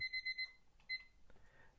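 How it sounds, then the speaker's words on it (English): A kitchen timer alarm goes off in a house, a run of four quick, loud electronic beeps followed by a pause and one more beep, then quiet room tone. "And there goes the timer."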